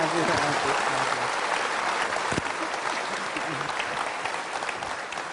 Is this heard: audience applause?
yes